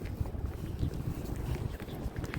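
Strong, cold gusty wind buffeting the microphone outdoors at Montreal's Olympic Park, low rumbling and fluttering, steady and fairly loud with no voices.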